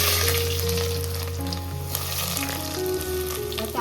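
Chopped onion sizzles steadily in hot oil with browned garlic for a spicy Konkan dry dish of ambadi and dried fish, a continuous frying hiss under faint background music.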